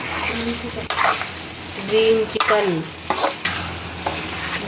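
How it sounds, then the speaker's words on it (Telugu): Green chillies frying in hot oil for a chicken gravy, with a steady close sizzle and repeated stirring scrapes through the clip; a voice briefly sounds over the cooking now and then. "5 మినిట్స్ బాగా ఆయిల్లో వేయించుకునేయాలండి"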